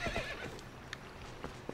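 Horse in the Zelda Twilight Princess video game whinnying, then clip-clopping hooves in a few soft taps, fairly faint against a hazy game backdrop.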